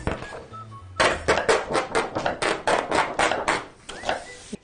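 A knife chops onion on a cutting board in a quick, even run of about a dozen close, crisp thunks, after a brief quiet start, with no talk over it.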